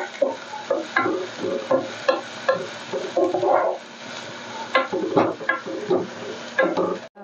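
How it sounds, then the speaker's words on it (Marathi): Chopped onion is sautéed and stirred in a pan for a drumstick and potato vegetable dish, giving a steady sizzle with repeated scraping strokes of a spoon against the pan, close and fairly loud. "आपण कांदा घालून घेतलाय, तो चांगला परतून घेऊया."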